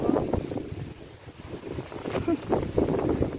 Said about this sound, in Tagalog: Ayan o, ang lakas ng hangin.